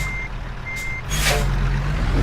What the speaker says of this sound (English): I did forget to turn off the damn backup beeper